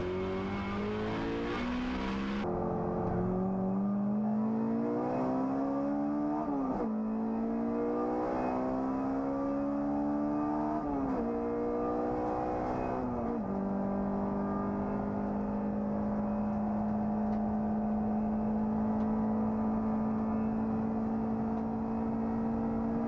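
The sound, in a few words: race cars racing at Rockingham, including a Seat and a Mini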